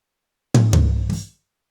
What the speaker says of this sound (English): So this is how they sound gated.